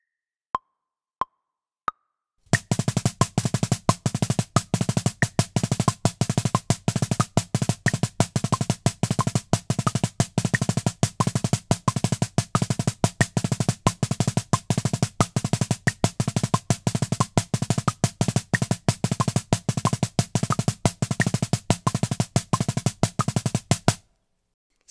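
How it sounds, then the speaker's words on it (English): Displaced single paradiddle with added notes played on a practice pad, a few count-in clicks then a long, fast, unbroken stream of dry, even stick taps, close and alone. "So when you apply that variation to the displaced single paradiddle challenge, it sounds like this."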